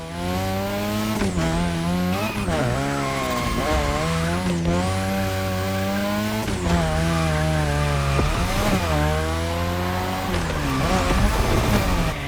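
A car drifting on a Japanese drift track in The Crew Motorfest, engine revving and wailing through repeated rises and drops in pitch, with tires squealing between gear shifts, loud and continuous.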